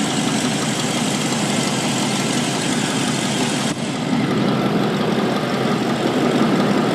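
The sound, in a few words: work truck engine running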